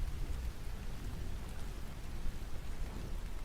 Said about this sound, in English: Oh, the rain sounds are on.